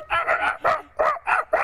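Barking dog sound effect performed by Michael Winslow, a voice imitating a dog with five loud, evenly spaced bow-wow barks in quick succession, close and unaccompanied.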